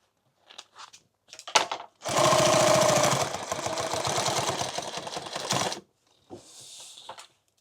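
A sewing machine stitches over a padded helmet bag in one sustained, rattling run of a few seconds, preceded and followed by brief handling knocks and clicks, close up.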